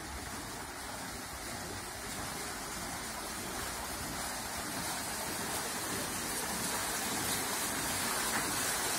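Pumped water pours down and turns the wheels of mill water wheels at the Gifhorn mill museum, a steady, close, rushing splash that holds without a break.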